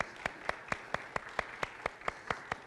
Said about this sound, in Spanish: le damos un fuerte aplauso a todos aquellos que se están conectando por las redes sociales